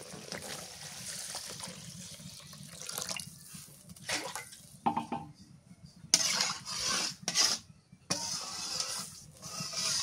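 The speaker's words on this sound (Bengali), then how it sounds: "আলু কষানো হয়ে গেছে, এবার ঝোলের পানি দিয়ে দিই।" Water poured into a pot of fried potatoes to make the gravy for a fish curry, a rushing, splashy pour in uneven bursts, close by with no talk.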